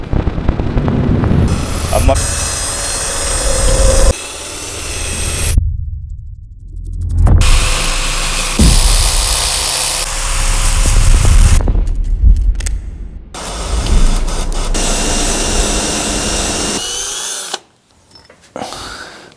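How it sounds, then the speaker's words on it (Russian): Valves are lapped into the cylinder head during a Toyota 2JZ engine build, with a power drill whirring loudly in repeated bursts separated by short pauses and a final quiet stretch. "Для вас мы закончим притирать клапана через 5 секунд"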